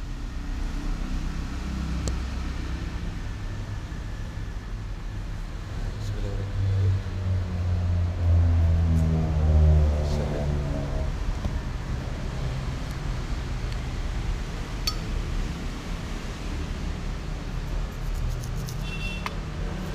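A kitchen blender whirs continuously, blending washed yam fruit with water into juice, a steady close motor drone with a slight rise in pitch and strain midway, and no voices over it.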